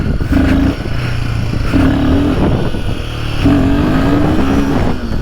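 A 2025 Royal Enfield Himalayan 450 motorcycle revs hard for a wheelie, close and loud, its engine note rising and falling in several surging pulls over a steady running drone.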